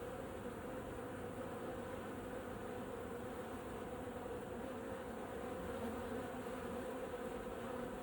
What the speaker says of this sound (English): Let's see what this wasp will be doing now.